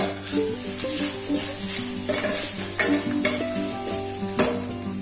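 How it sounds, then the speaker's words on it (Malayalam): Grated coconut roasting with chopped shallots in a pan for Kerala erissery, a continuous close sizzle broken by regular stirring scrapes, alone without talk. "നമുക്ക് ഒരു 3 ടേബിൾ സ്പൂൺ തേങ്ങ വറുത്ത് ചേർക്കണം."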